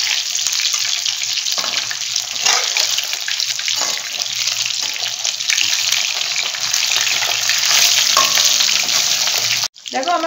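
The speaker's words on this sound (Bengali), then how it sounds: "এবারে আমি মাছটা উল্টে দিচ্ছি।" Fish fries in hot oil with a loud, close, continuous sizzle and faint stirring scrapes as it is turned, broken by a brief drop-out near the end before the sizzle returns.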